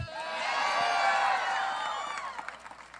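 Rally crowd in Austin cheering and whooping loudly and continuously, a dense roar with shouts that swells then gradually fades, scattered claps emerging near the end.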